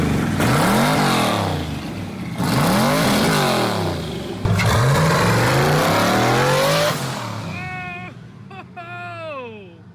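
An upgraded Corvette ZR1 engine with boost revs hard several times in swelling, falling sweeps, loud and close, before settling toward idle as voices talk over the end.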